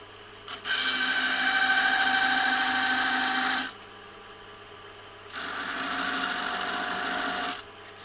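Wood lathe turning at around 800 RPM with a cutting tool working the surface for heavy decoration, giving a steady bright scraping hum for about three seconds, a pause, then a second, slightly softer pass, with no talking.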